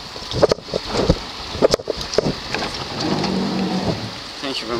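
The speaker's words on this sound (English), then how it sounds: "It's rainy." Rain patters steadily on a car, a constant wash of noise under several short bumps and knocks, with people talking nearby.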